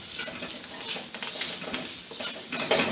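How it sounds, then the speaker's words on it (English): Mushrooms stir-fried in a pan for noodles give a steady sizzle, with soft scraping and clinks of stirring over it, close and continuous. "Alright, so we stir frying this. Stir frying our mushroom."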